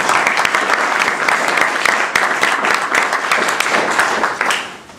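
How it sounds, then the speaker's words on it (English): At a hospital ceremony honoring retired doctors, a room of guests applauds a man named Phil with loud, steady, crisp clapping that fades out at the end. "Let's give Phil a round of applause."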